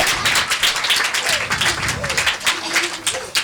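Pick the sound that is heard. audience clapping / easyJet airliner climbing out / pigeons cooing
audience clapping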